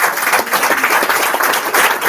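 An audience applauds at the official launch event of a college project, steady clapping from a small crowd that fills the whole moment without talk.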